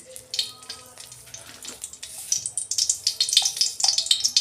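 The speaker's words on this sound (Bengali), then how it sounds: "একটা শুকনো লঙ্কা ফোড়নে দিচ্ছি।" Dried red chilli crackling in hot mustard oil in a kadai, a steady sizzle and frying crackle that builds louder over the clip, with a few light utensil clinks.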